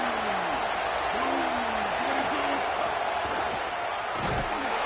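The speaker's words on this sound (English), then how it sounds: "3rd down, and this crowd is bringing down the house." Stadium crowd in a college football video game, Florida vs Ole Miss, roars loudly and continuously on a third down, a dense sustained wash of noise with a commentator talking over it.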